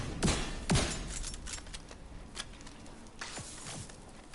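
Gunfire in The Division 2 video game: a few sharp shots and bursts spaced across a few seconds, moderately quiet, against a steady background of game ambience with no voices.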